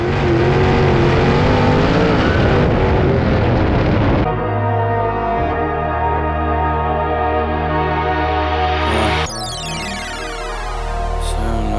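A dirt race car laps Eldora Speedway, its engine roaring loud and close with rising and falling revs, abrupt gear and pitch changes, and a sharp whine toward the end.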